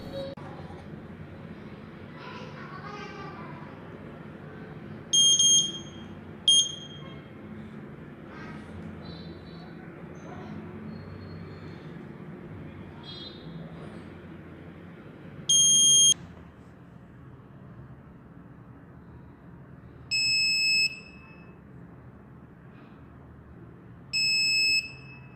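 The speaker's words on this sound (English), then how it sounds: "when the smoke detector detects the smoke, then the LED and buzzer will switch on" A homemade smoke detector circuit built around an MOC7811 sensor and LM358 chip sounds its buzzer in four short, piercing electronic bursts, each lasting about a second, over a steady low background hum with faint talk.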